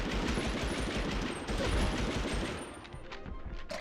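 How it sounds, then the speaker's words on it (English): A dense, continuous burst of automatic machine gun fire rattles loudly for several seconds and then thins out near the end, in the WWII-era game Medal of Honor Underground. "I don't wanna get mauled by his machine gun"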